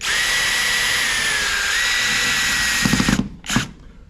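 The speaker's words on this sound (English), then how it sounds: "Now what I'm gonna do is I will tighten this one down." A power driver whines steadily for about three seconds, then stutters in short bursts as a toggle bolt tightens down.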